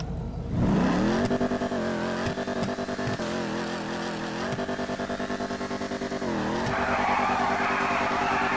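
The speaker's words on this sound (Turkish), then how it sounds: "Sesi değişmiş arabanın abi ya." Modified car in the video game GTA 5 racing hard: a loud, continuous engine roar with repeated rising revs and gear changes, plus tire squeal and skidding near the end.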